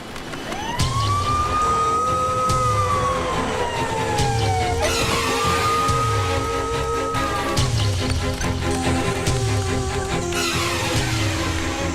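A loud wailing ambulance siren rises and falls repeatedly close by, over rumbling traffic and scattered clatter, continuing for the whole stretch.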